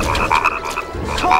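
Repeated frog croaks from the frog catcher minigame in Oogie's Revenge, a Nightmare Before Christmas video game, several raspy calls in quick succession, loud and close over a steady game background.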